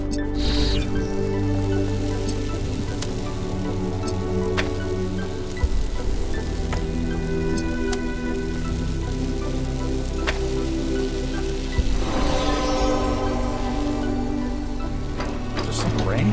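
Steady rainfall in the video game The Talos Principle, a continuous close hiss of drops on surfaces running throughout, with occasional faint thumps beneath.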